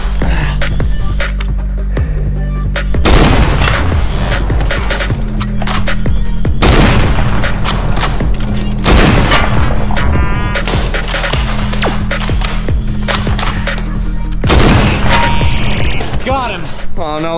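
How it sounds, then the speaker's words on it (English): Sniper gunfire in a Fortnite-themed live-action film, heard as sharp shots repeating at intervals over a steady low throbbing music bed, loud and close. "Alright, Jake, I'm gonna use a sniper."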